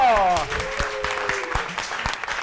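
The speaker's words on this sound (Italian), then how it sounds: "Applauso!" Audience applause at a stand-up comedy show in a small theatre, a quick burst of clapping under a voice that trails off at the start, then fading into scattered claps.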